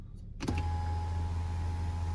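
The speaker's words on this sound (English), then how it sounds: "we push the button again, we can see the roof also will open" A 2023 BMW X5 30d sunroof motor starts with a soft click and then hums steadily as the roof opens, a close, even whine inside the quiet cabin.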